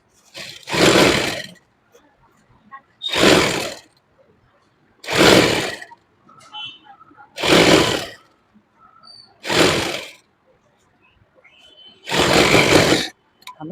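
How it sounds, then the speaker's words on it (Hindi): Sewing machine running the side seam of a lined suit, in six separate loud bursts of about a second each with quiet pauses between them. "अब हम साइड में से इस तरह से सिलाई लगा लेंगे।"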